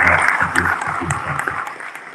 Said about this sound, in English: Let's give a huge round of applause to Shri Narendra.